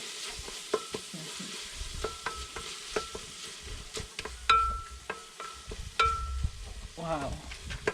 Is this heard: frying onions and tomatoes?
yes